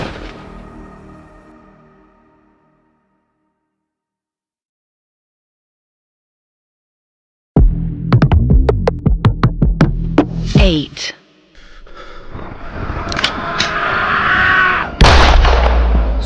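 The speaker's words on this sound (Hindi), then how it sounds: "सुदीप ने समीर बेदी को गोली मार दी।" A gunshot sound effect in an audio crime story: loud, sharp, booming shots and bursts after a long silence, mixed with dramatic effects and a narrating voice.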